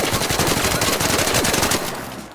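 The Stitcher gun in the video game Arc Raiders fires full auto in a loud, rapid, even burst of shots that runs steadily, then tails off at the end.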